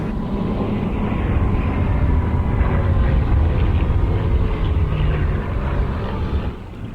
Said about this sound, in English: our 4 ship of Hurricanes in from the left.